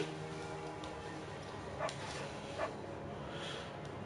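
Beagle barking in the video game Firewatch, two brief, faint yips over a low steady background hum.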